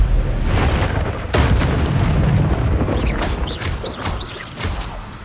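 The Bombarda blasting spell in Hogwarts Legacy: a loud booming explosion followed by crashing debris and bursts, with fading rumbles and whooshes trailing off over several seconds.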